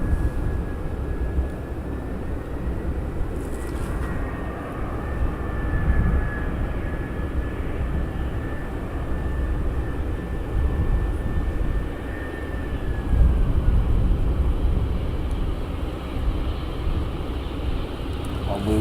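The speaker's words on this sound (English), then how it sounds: "It looks like I can see a large aircraft joining base," Large aircraft joining base and turning final to land at Amsterdam Schiphol Airport, a steady distant engine drone with a faint rising and falling whine, heard alone for the whole stretch.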